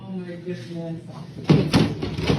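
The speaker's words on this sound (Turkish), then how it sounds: "Kapının aniden çarpılarak kapandığı anda Michael'ın sesindeki saf paniği görmezd" A shouting voice cuts off, then a door suddenly slams shut with a loud, sharp bang. A few rattling knocks follow close by.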